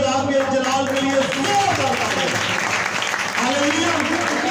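A church congregation at a Sunday prayer meeting claps and applauds loudly and continuously, with a preacher's voice speaking over the clapping.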